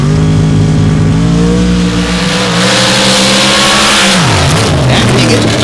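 A loud, sustained engine roar from a high-power stock class machine in motorsport racing at the starting line, the pitch climbing steadily as it launches, then dropping sharply near the end before rising again.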